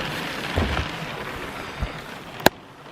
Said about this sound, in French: Vous entendez la pluie?